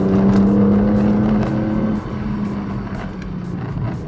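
A BMW straight-six engine revs hard and loud, a strong steady drone that eases off at about the two-second mark and then holds at a lower level. It sounds close, and no voices are heard.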